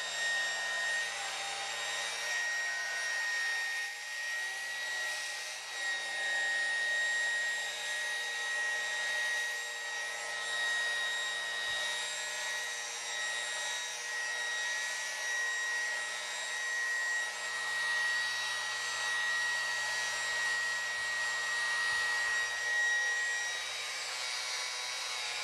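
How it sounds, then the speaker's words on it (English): A steady electric whirring hum runs continuously, like a small motorized shaver with a suction fan, constant in pitch and loudness throughout. "They have a little vacuum cleaner. And it sucks up the hair."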